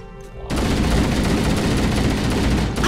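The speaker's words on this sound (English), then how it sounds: "I am shooting directly at you." Gunfire in Halo CE breaks out abruptly after a brief quiet moment and becomes a dense, loud, continuous rattle of automatic shots that runs to the end.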